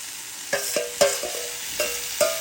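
Onions and greens stirred in a pan for a hilsa curry with taro and brinkjal, a soft steady sizzle broken by several sharp spatula scrapes and clinks at irregular intervals.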